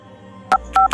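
Keypad tones from the dial pad of a Redmi smartphone: three short, crisp dual-tone beeps of rising length, loud and close, over a faint background hum.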